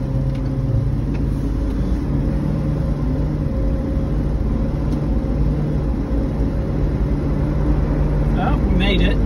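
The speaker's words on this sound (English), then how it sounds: "let's see how this thing operates on the highway. We have no room to launch and a really big heavy car" A big, heavy Range Rover Vogue SE Classic in a video game cruising on a highway, with a continuous low engine drone and road rumble throughout, steady and close.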